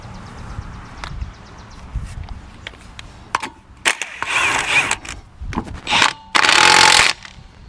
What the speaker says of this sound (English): Go ahead and put our lug nuts in.